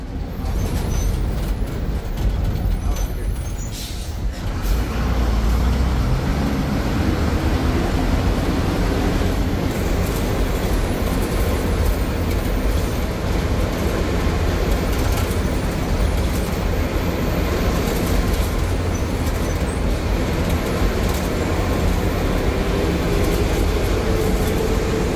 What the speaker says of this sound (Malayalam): ഇരുട്ടിയിൽ നിന്ന് മാനന്തവാടിയിലേക്ക് പോകുന്ന ഒരു ബസ്സാണ് ഇത്.